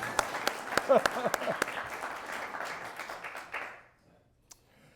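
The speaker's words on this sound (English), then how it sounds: "Round of applause to the most in our audience." Studio audience at a forum Q&A breaking into applause, crisp individual claps at first merging into a dense round that fades out after a few seconds, leaving near silence.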